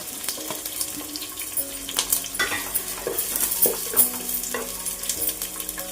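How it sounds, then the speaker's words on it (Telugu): Onions and green chilies frying in hot oil in a pan for a fish curry, giving a steady crackling sizzle with bursts of stirring and scraping throughout, fairly close and without talk. "ఇది కొంచెం హీట్ అయిన తర్వాత ఇప్పుడు ఉల్లిపాయలు వేద్దామండి. తర్వాత పచ్చిమిర్చి"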